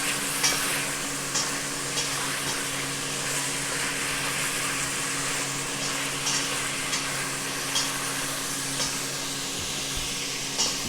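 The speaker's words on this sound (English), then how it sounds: "You just want it to start browning a little bit, not much" Pork pieces browning in a pan for adobo give a steady close sizzle, broken by occasional soft scrapes and clicks of stirring, with no voices.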